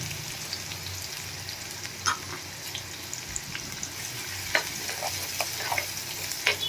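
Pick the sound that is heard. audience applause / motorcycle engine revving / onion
onion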